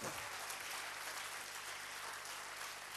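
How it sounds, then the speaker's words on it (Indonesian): A church congregation claps together, a dense, even wash of applause held steady throughout and heard somewhat faint and distant. "Tepuk tangan bagi Tuhan."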